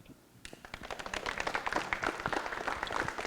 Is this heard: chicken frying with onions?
no